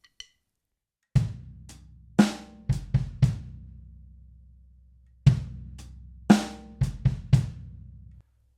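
A sparse drum groove played alone: deep bass drum thumps and crisp hi-hat hits in an uneven rhythm, each ringing out briefly before the next.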